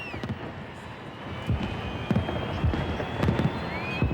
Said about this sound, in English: Tonight, the firework finale in Hyde Park.